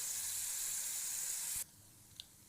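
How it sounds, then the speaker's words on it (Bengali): Paneer cubes frying in a pan with oil, a steady hissing sizzle at close range that cuts off abruptly, followed by near silence and one faint click. "পনিরগুলো এবার আস্তে আস্তে আমি ভেজে নেব"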